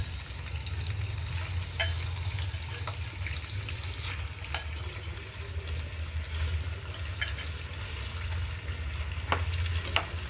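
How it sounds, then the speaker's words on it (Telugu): Chicken pieces fry in a pan with onions and ginger-garlic paste, a steady close sizzle running throughout, with occasional scrapes and clinks of stirring. "ఫ్రై చేసుకొని ఇప్పుడు కడిగి పెట్టిన చికెన్ వేసినాను."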